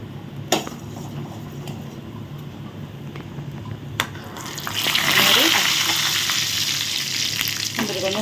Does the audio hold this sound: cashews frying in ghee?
yes